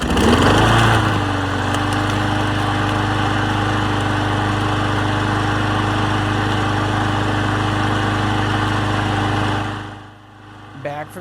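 A small engine on a previously dead lawn mower, fitted with a new cylinder head and spark plug, sputters to life, then settles into a loud, steady, slightly smoky drone that runs evenly before cutting off near the end.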